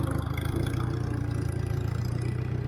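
IH McCormick Farmall 350 tractor fitted with a fast hitch, its engine idling in a steady low, lumpy rumble with even firing pulses, close by and alone without talk.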